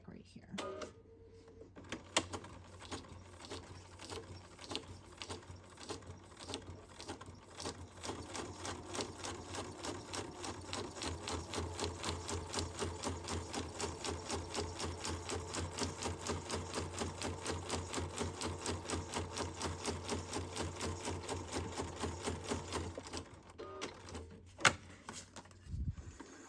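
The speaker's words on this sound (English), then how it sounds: "we'll go ahead and do another stitch" A sewing machine stitching paper booklet covers together runs in a long steady rapid chatter for about twenty seconds, close, with a few handling knocks at the start and end.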